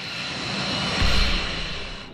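F-22 Raptor stealth fighter jet engine at full speed, a loud continuous roar that swells briefly in the middle before easing slightly, with no voices present.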